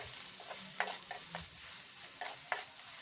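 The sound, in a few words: onion paste and garlic paste frying in a pan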